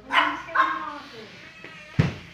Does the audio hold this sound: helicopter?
no